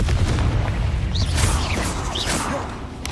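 A Confringo blasting spell going off in Hogwarts Legacy on PC, a loud booming explosion with rumbling low end and whooshing bursts over about three seconds, dense and close throughout.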